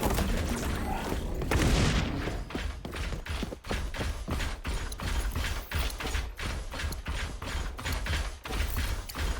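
Weapon magazine reload in the shooter game XDefiant, a burst of rapid sharp mechanical clicks and clacks repeating in quick rhythm, loud and close over a busy game mix, with no voices.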